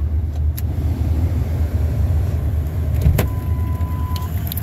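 A 1999 Ford F150 pickup idles steadily after a cold start, its engine a close, continuous low rumble, with a few faint clicks over it.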